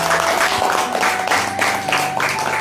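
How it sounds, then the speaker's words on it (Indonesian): Audience applause following a lecture on Islamic Sufi teaching, a dense, steady wash of many hands clapping together, fairly loud and continuous without breaks. "Tepuk tangan."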